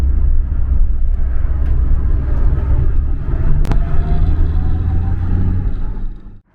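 Steady low rumble of a car riding along a road toward Sarvestan city center in Iran, loud and continuous with a brief higher whine midway, fading out at the end; no talk.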